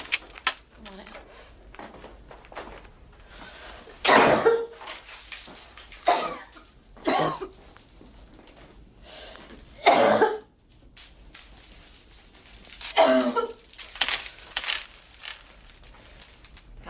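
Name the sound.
coughing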